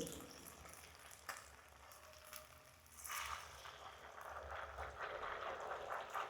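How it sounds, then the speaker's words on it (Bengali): Malpua frying in a pan after being flipped, a faint sizzle that swells into a fuller, hissing fry about halfway through, heard close and alone. "উল্টানো অবস্থা আবার খানিক্ষণ এটা ভাজতে হবে"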